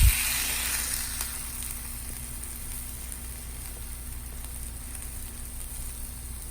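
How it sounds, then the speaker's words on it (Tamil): Batter made from leftover cooked rice sizzles steadily on a hot dosa griddle. The hiss is loud and continuous, with a sharper burst at the start, and no one speaks. "இப்போ அப்படியே நம்ம வந்து தோசைக்கல்லில் போட வேண்டியது தான்."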